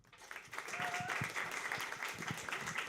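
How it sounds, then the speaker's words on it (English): An audience at a poetry reading claps warmly for a poet, a steady wash of applause rising quickly and holding for several seconds at moderate distance. "A huge round of applause for Cynthia Miller."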